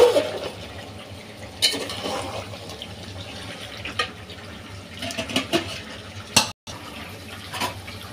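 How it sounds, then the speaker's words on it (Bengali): Hot water poured into a pot of spiny gourd and potato curry, a soft close splashing and pouring with a few clinks of the pot, and no talk. "এই তো এখন আমি গরম পানিটা দিয়ে দেব।"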